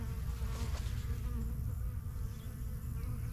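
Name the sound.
honey bees buzzing around an opened beehive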